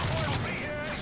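Enemy vehicle gunfire in the video game Call of Duty Modern Warfare 3: a loud, continuous fusillade of shots rattling through the whole second, with a low rumble beneath.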